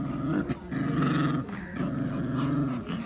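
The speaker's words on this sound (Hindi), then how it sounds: "ये छोटा रोकू कैसे गुर्रा रहा है जिमी की तरफ" Small puppy growling at another dog during play, a close, rumbling growl in repeated bursts with brief breaks between them, loud and alone without any talking.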